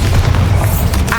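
A Bombarda spell in Hogwarts Legacy lets off a short, heavy boom, a loud close blast with a deep rumbling low end lasting about a second.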